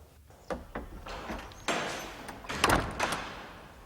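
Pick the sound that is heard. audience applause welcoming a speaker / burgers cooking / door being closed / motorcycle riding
door being closed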